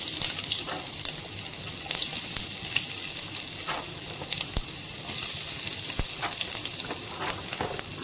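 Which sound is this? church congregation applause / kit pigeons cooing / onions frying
onions frying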